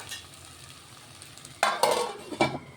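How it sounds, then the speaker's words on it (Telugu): Oil added at the side of a non-stick pan holding wheat-flour batter: faint low sizzle at first, then sudden louder bursts of crackling hiss and scraping, close by, with no talking. "ఇప్పుడు ఇందులో కొంచెం సైడ్కి మనం ఆయిల్ వేసుకుందాము కొంచెం వేస్తున్నామండి ఈ నాన్ స్టిక్ దాంట్లో"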